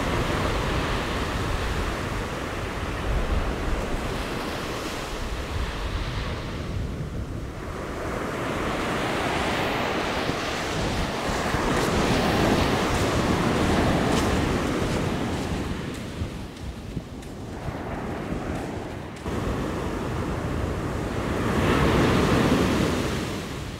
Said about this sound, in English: the wet sand where the surf has receded and the surf as it's going out